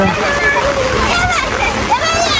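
Children bathing in a rain-swollen river splash and play, with loud, continuous water churning and their excited voices mixed in close by.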